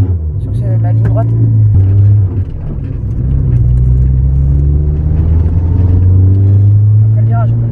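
A turbocharged Volkswagen Golf 2 pulls hard down a straight with a loud, steady engine drone rising in pitch. Someone talks over the engine from inside the car.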